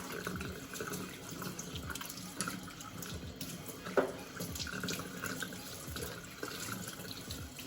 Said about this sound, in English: So I just have my water lightly on cold water